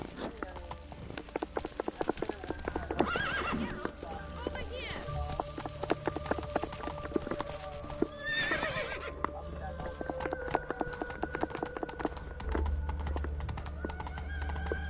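Horse hooves clip-clop steadily on the ground in The Witcher 3 game, the horse snorting and whinnying at times, with game voices and background ambience around.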